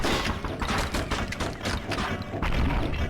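Rapid gunfire and explosive blasts from the Blood and Bacon video game, a dense and continuous loud barrage of shots and booms with no letup.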